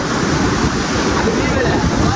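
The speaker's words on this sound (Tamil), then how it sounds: "அலை ரொம்ப செம்மையா வருதுல்ல அலை." Ocean surf rolls onto the beach at Kollam, Kerala, a steady broadband wash of breaking waves with wind buffeting the microphone, loud and continuous throughout.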